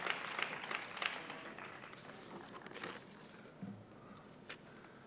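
A conference audience at a healthcare quality event breaks into applause, a dense patter of many hands clapping that is strongest at the start and then thins and fades over several seconds.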